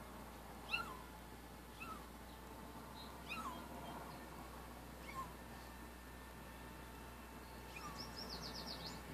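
Faint, high kitten cries repeat every second or so at a distance against quiet outdoor ambience. The kitten is placed under a drop trap as bait to call its mother.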